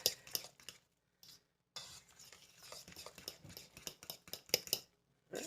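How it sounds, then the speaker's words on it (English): A fork beating eggs in a bowl, quick irregular clinks and scrapes of metal against the bowl in bursts with short pauses, close and fairly quiet. "I take a fork and beat it"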